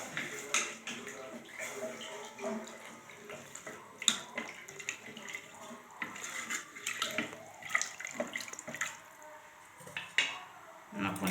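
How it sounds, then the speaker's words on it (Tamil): Water poured from a vessel into a cooking pot for boiling rice and lentils, with splashes and metallic clinks, fairly quiet and uneven, alongside some kitchen handling noises. "கொஞ்சம் தண்ணி ஊற்றிக்கிறேன் கொதிக்கட்டும்"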